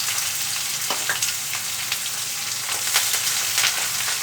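Chopped onions frying in hot oil seasoned with green cardamom for Bengali mutton kosha, a steady close sizzle with a few brief crackles and stirring scrapes, no talking.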